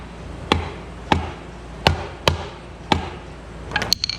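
Hodaka crankshaft and transmission parts tapped together, giving six sharp metallic knocks spaced roughly half a second apart, close and distinct, followed by a brief cluster of lighter clinks.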